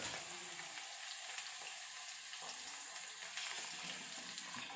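Onions fry in a pan for a Kerala mezhukkupuratty, a faint, steady bright sizzle with occasional soft crackles and no talking.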